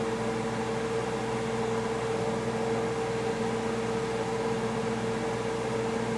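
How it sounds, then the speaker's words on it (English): An electric fan runs in a home kitchen while fish tea soup cooks on the stove, giving a steady, continuous whir with a low tonal hum that holds evenly throughout, with no one talking. "I got to keep the fan going, as we all know when you're cooking"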